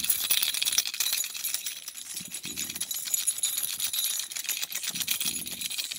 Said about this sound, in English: Some keys. These are my keys